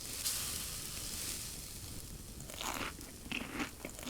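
Food sizzling and frying on a cooking station in the survival video game Subsistence, a steady crackling hiss with a few louder crunchy bursts toward the end.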